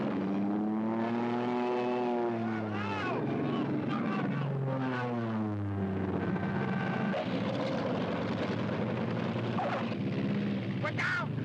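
Propeller airplane engine droning steadily in flight, a constant loud hum running throughout with people talking over it.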